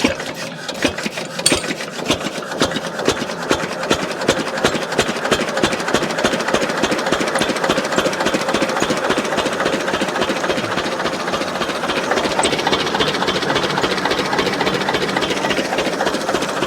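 A small farm engine runs in a village in the Pachamalai Hills of Tamil Nadu, chugging with a steady rapid rhythmic beat that holds near and fairly loud for the whole stretch, with no talk over it.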